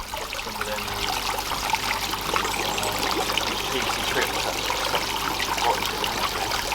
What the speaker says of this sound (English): he's got a nice water blade here, like as a waterfall